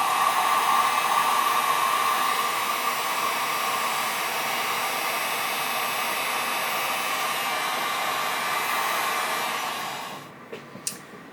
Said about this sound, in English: I need to use my heat gun